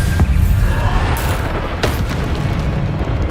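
Bombarda spell blast in the wizarding game Hogwarts Legacy, a loud, dense roar of booming explosion and crackling debris that fills the moment, with a couple of sharp bursts rising through the rumble.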